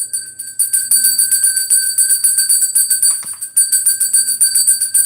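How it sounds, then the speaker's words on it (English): A small bell rings in quick, continuous strokes, each bright metallic tinkle overlapping the next for several seconds, loud and close, with no one talking. "Oh, I need the bell. We need the bell."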